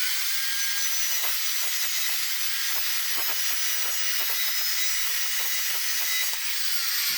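Power saw cutting wood while building a dirt bike wheel chock, a continuous loud, harsh grinding rasp with small rhythmic fluctuations and no voices.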